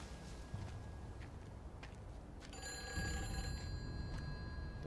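A telephone rings inside the game Everybody's Gone To The Rapture, its steady tonal bell starting partway through and sounding moderately close over a low, noisy ambient background.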